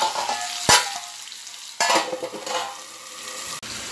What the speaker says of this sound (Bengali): হলুদ দিয়ে আমি এটা কিছুক্ষণের জন্য ভাজা ভাজা করব।